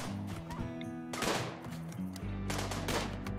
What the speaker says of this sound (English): Shoot at that thing.